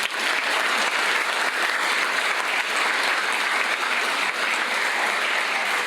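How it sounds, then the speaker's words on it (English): A crowd applauds continuously, dense steady clapping filling the whole stretch at a consistent loudness. "one last applause for the entire class"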